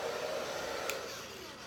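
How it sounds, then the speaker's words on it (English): A hair dryer blows steadily at close range, a continuous airy whoosh with no pauses. "Might as well use this hairdryer on some of the wetter root areas."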